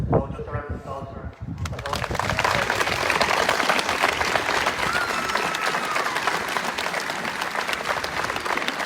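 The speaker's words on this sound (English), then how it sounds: "So just a round of applause for" Sustained audience applause fills the ground at a hurling senior championship final presentation in Trim, building after a brief opening of speech and holding steady as a dense, continuous wash of clapping.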